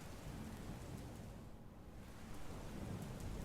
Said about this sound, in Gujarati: રાજ્યના અલગ અલગ વિસ્તારો છે કે જ્યાં વરસાદ વરસી રહ્યો છે